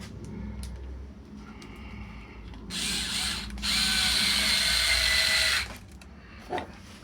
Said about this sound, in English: I'm just going to put a pilot hole in there